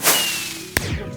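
A firework rocket launches in the modded Minecraft pack Stoneblock 2, with a rising whistling whoosh followed by a sharp, loud bang just under a second in.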